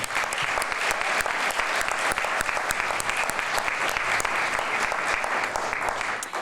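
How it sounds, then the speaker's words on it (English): A sustained round of loud, dense clapping fills an award ceremony hall for the nominees, continuous and even throughout without a break. "Please join me in a round of applause to show our appreciation to all of our nominees"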